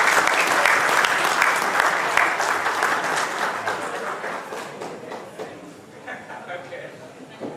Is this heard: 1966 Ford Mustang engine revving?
no